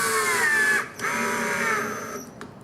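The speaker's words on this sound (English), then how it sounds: "Go ahead and put one screw in just to hold it while I drill the others." A drill drives screws into a vanity drawer, giving a steady high motor whine that dips briefly, resumes, then slows toward the end, close and loud.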